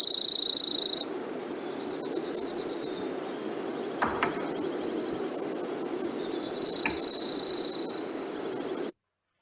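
Repeated high, rapid bird calls in short bursts, separated by pauses, with a couple of sharp clicks in between over a low background hum.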